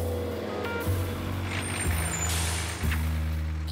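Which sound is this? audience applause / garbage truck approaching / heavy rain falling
garbage truck approaching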